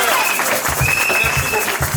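A church congregation applauds in praise, with steady mixed clapping and crowd noise running through the whole stretch, and a thumping rhythmic beat underneath.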